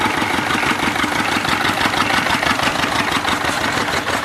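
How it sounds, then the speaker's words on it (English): Southern Cross diesel engine driving a water pump at a steam rally, chugging steadily at an even idle-like rhythm, close and loud throughout with no talk. "Another Southern Cross diesel with a water pump."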